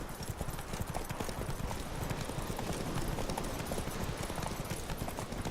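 Several horses gallop hard in The Witcher 3 video game, their hooves drumming in a dense, continuous clatter under a loud, busy soundscape, with no voices over it.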